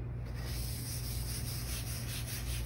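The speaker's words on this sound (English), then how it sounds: "wipe it around really well, get all between your fingers" Hands coated in Seabrook Shaman cleansing wash rub together briskly close up, a continuous dry swishing friction with slight rhythmic pulses and no talk.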